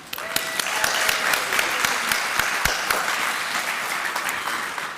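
Audience applause at a Women's Hall of Fame ceremony thanks a college president and the sponsoring college, with steady, full clapping and a few sharp individual claps standing out near the front.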